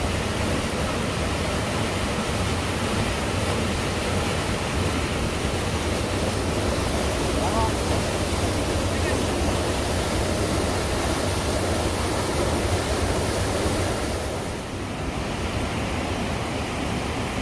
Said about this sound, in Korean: 이정 폭포를 지금 보고 계십니다